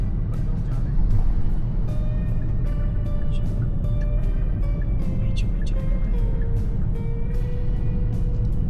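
Road traffic heard from inside a moving Kia Syros with a 1.0-litre petrol engine: a constant low rumble of engine and tyre noise, with other cars passing nearby and faint horn-like tones rising and fading over it.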